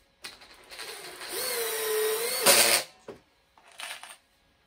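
A Makita DTD153 impact driver whirs up and drives a longer screw at second speed. A rising motor whine ends in a short rattling burst, then a brief second spin follows.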